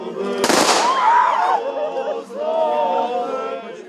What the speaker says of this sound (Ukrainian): Військовим салютом з автоматів провели в останню путь героїв.